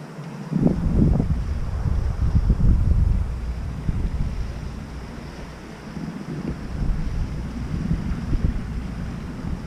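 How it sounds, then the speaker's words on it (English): A large boat's engine rumbles low and steady, swelling early then holding, with wind buffeting the microphone throughout; no one speaks. "Big old boat that is."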